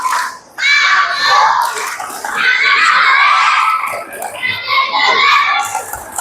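Children shouting an Islamic clapping chant together at a religious school event, loud group voices in bursts close by, with clapping mixed into the chanting.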